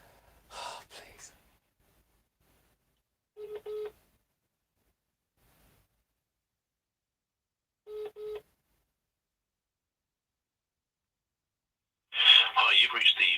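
A telephone call rings out on the line, with two brief, faint ringback tones separated by long silence. Breathing and a voice are heard at the start and end.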